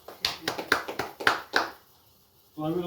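Audience applause for a presenter at a business income-plan talk: a short burst of a few claps, quick and uneven, fading out after about a second and a half before a voice resumes.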